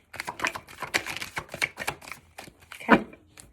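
Intuition deck cards are shuffled in quick rapid riffles, a run of crisp close flutters and taps ending in one louder slap of cards, with no talking.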